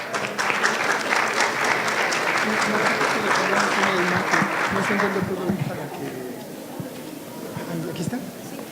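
An audience at an academic conference applauds to welcome a speaker, dense clapping for about five seconds before fading, followed by low murmuring and voices.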